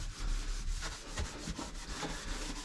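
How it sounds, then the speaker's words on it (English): A stove being scrubbed with a small scrubber, close, repeated abrasive rubbing strokes in a quick back-and-forth rhythm, with no talk. "I'll take this, you know, this little scrubber thing, and I'll scrub and get all the major stuff off"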